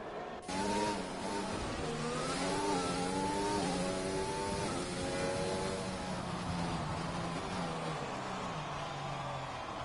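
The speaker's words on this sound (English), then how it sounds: "I've got car sounds in Q1" Formula 1 race cars in the F1 2020 game during qualifying at Monaco, steady engine whine rising and falling in pitch as several cars rev and accelerate, continuous and moderately loud, with no talking.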